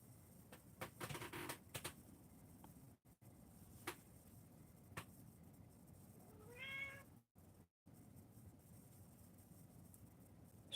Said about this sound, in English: She's singing the empty dinner dish bowl song that she likes to sing.